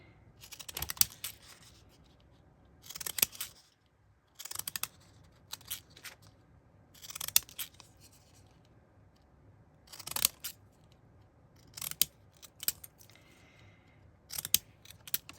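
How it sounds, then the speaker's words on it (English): Scissors trimming around the edges of postage stamps: crisp, quiet snips that come in small clusters with pauses between them in an otherwise hushed room. "So we're just gonna trim them right around the edges."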